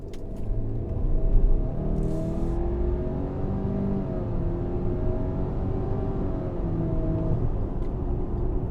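A 2019 Subaru Ascent's turbocharged four-cylinder pulls away from a stop, a low engine drone rising steadily in pitch through the gears, heard from inside the cabin over road rumble.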